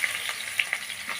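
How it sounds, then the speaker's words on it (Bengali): Food frying in a pan while preparing a country chicken curry, a steady close sizzle with faint stirring scrapes, no voices. "এটা ভেজে নিচ্ছি।"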